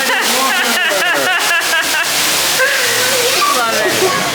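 Rushing water from a waterfall-style water feature at Center Parcs Whinfell Forest, a steady loud wash of spray heard throughout, with people talking over it.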